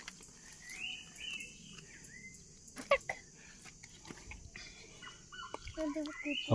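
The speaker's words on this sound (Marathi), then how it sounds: "तुम्हाला आवाज येतोय पक्षाचा तो रान कोंबडा आहे बोंबटतोय" A faint, distant red junglefowl rooster crows amid outdoor ambience by a stream, with a second fainter crow later and scattered rustling and clicks nearby.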